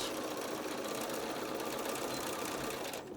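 A sewing machine top stitching close to the edge of a fitted fabric mask, a soft, steady, rapid mechanical whirr that runs continuously and stops just at the end.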